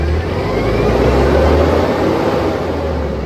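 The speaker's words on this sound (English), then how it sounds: "Then you put the foot on the gas pedal." A truck engine running at the pedal during a pre-trip start check, a loud, steady low rumble that swells slightly mid-way as the revs rise, then settles, with no voices.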